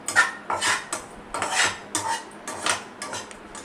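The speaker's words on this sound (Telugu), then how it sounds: "కొబ్బరిని మనం మిక్సీ తురుముకొని ఇలా నెయ్యిలో వేయించుకోవాలి." Grated coconut fried in ghee and stirred with a metal spoon against the pan for laddus, giving repeated scraping and clinking strokes in an irregular rhythm, close and moderately loud.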